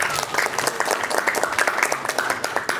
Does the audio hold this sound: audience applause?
yes